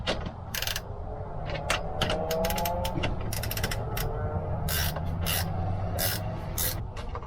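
A locking washer and nut being tightened onto a boat's mast step plate: a run of rapid ratcheting clicks and metallic creaks, close and fairly loud, with no talk.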